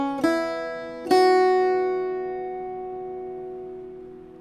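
An Irish bouzouki plays a short phrase from the Calliope House A section: two plucked notes, the second ringing on in a slow decay across several seconds, alone with no talk.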